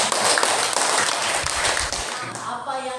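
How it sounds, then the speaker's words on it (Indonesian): Students in a classroom clapping for their classmates, a dense burst of applause with children's voices mixed in, fading toward the end. "Tepuk tangan buat mereka dulu."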